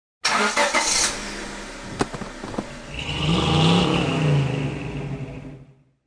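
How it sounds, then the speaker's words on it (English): A 2018 Nissan Sentra SR Midnight Edition starts up and drives off, opening with sharp clicks and a brief burst, then a rising, revving engine note that swells, holds and fades away, with no talking. "today we're driving this, the Nissan Sentra SR Midnight Edition"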